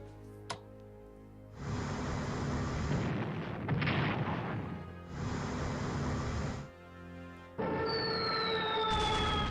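Naval battle gunfire in the Strategic Command WWII Pacific war game as a destroyer is sunk: loud bursts of artillery and explosion rumble in long blocks, then a rising siren-like tone, with no talk.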